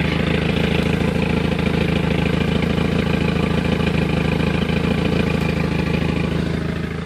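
A Volvo 940 engine idles steadily with a worn AC compressor clutch, a loud, continuous, close-up mechanical hum and rumble with a faint rattling texture and no talk over it.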